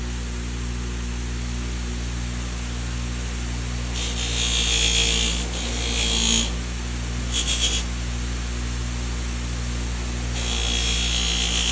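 A belt grinder polishes the edges of a Case Canoe pocket knife with bone handles, giving off bursts of bright hissing abrasion that come and go over a steady motor drone, with no talking.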